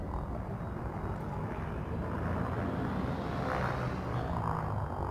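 Steady, deep rumbling roar of spaceship engines firing up for lift-off in a VR space exploration game, a continuous low drone holding at an even level without talk.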